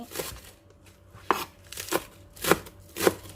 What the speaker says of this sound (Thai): หั่นหอมผักชีเนาะเตรียมไว้